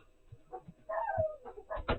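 Faint, distant dog barking and yipping in short bursts, quiet and somewhat muffled.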